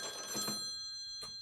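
A telephone bell rings, a bright metallic trill that cuts off, then a brief faint second burst, short and close.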